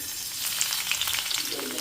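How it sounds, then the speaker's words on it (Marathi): Crushed garlic hits very hot oil in a pan, giving a steady, loud hissing sizzle with small crackles throughout, with no talk. "तेल छान कडकडीत तापले आता त्याच्यात मी हा ठेचलेला लसूण घालतीये"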